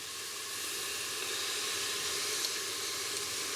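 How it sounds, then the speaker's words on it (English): Sofrito frying in a pan for lentil peas and rice gives a steady, close hiss and sizzle that holds evenly throughout with no break and no talking. "I'm also going to fry up some sofrito."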